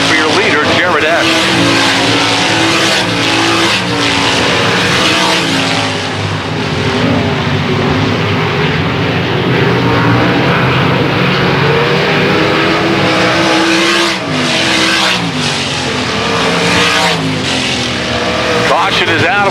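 410 sprint cars racing in a dirt track heat race, a loud continuous roar of several engines revving and droning close by throughout, with an announcer's voice partly mixed in.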